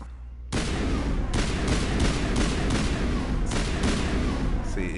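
Sniper rifle fire in the sci-fi game Mass Effect erupts after a brief quiet start, then sustains a loud, dense barrage of repeated sharp cracks and booming reports, close and continuous.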